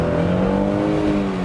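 A Mercedes C400 Cabriolet engine revs steadily, a loud, close, sustained droning tone with a rising pitch and no voices over it.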